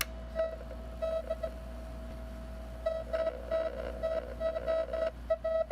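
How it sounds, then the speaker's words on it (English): Morse code practice machine reading ink marks off tape with a photoelectric sensor and turning them into beeps, a steady pitched tone broken into short and long beeps in irregular groups, moderately loud over a low hum, no talk. "The machine reads ink marks on the tape with a photoelectric sensor and converts them into audible beeps, simulating the dots and dashes of Morse code."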